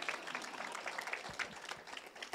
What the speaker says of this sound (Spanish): Aplauso a los cananeos